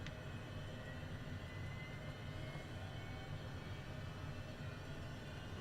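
HondaJet HA420 engines in Microsoft Flight Simulator spool up into a dense, steady, even roar that fills the whole clip at a moderate level, with no voices.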